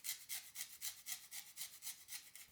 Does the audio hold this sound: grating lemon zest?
yes